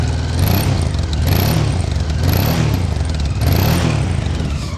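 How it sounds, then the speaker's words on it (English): A 1992 Honda XRV750 Africa Twin motorcycle engine runs steadily at idle outdoors on a windy hilltop, a smooth, continuous throb with a faint tweeting exhaust note and slight rhythmic surges, with wind noise over it. "Nice smooth engine."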